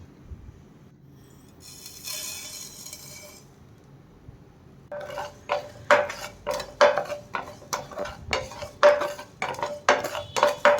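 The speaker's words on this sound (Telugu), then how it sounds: "కడాయి పెట్టుకొని గోల్డిష్ కలర్లో వేయించుకోవాలి" Mustard seeds, cumin and fenugreek roasting in a kadai give a quiet start with one brief hiss, then a quick run of close metallic clinks and scrapes from stirring.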